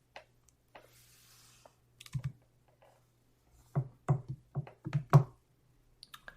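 Computer mouse and keyboard clicks sound close up in a quiet room, a few isolated taps early and then a quick cluster of sharper clicks, over a low steady electrical hum.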